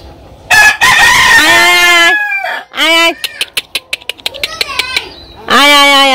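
A village chicken clucks loudly and close by in repeated squawking bursts, with a run of quick sharp clucks in the middle, then more drawn-out calls.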